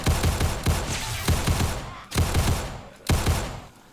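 Bursts of 9mm automatic fire in 7 Days to Die ring out close and loud in several quick volleys, separated by short pauses.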